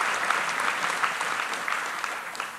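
A DEFCON 21 conference audience breaks into steady applause, a dense wash of many hands clapping at moderate volume for a couple of seconds.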